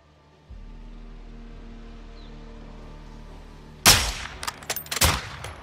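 Sniper rifle fire in the video game Call of Duty Modern Warfare 2: after a low steady ambient hum, one loud sharp shot cracks out, followed about a second later by another burst of shot and impact noise.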